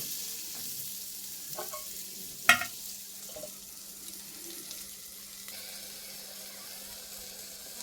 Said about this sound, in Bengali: নেড়ে চেড়ে এবার ঢেকে দেবো আবার।